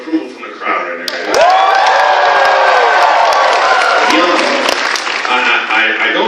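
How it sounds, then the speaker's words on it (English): A large convention audience at MegaCon bursts into loud applause, whoops and cheering, building quickly and staying dense for several seconds, with voices shouting over the clapping. "there's a tremendous outburst of approval from the crowd right there"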